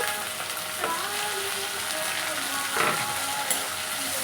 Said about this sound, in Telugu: బాగా కొంచెం వేయించినాక ఇంకా అందులోనే ఆనియన్స్ కూడా అయితే వేసేస్తున్నాను.